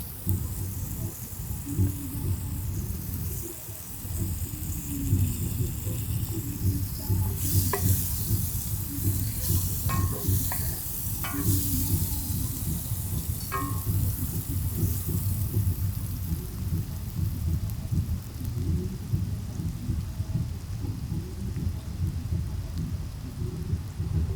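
Butter and seasoning sizzle in a pan over an outdoor cooking fire for a Jamaican breakfast, a steady loud crackling hiss throughout with a few scraping stirs and clicks in the middle.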